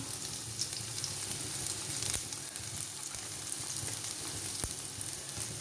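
Chopped onion sizzling steadily in hot oil with popped mustard seeds, a continuous frying hiss for a Kerala chembu (taro stem) thoran, with a couple of sharp pops along the way and no talking.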